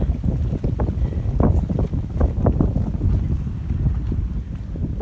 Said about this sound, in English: You can see how fast the wind is pushing me today.